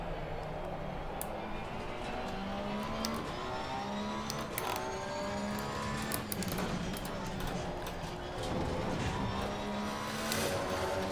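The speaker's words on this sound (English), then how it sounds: "The sounds of the Porsche." A Porsche 911 GT3R race car engine drones in a racing simulator, with a continuous close whine that climbs in pitch through repeated gear shifts over about eleven seconds, backed by tire and track noise.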